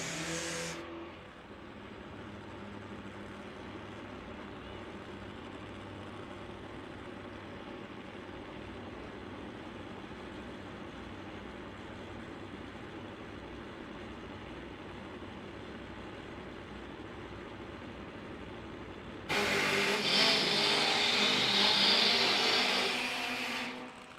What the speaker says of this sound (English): Mitch Brown and Larry McBride fired up on the nitro, ready to go.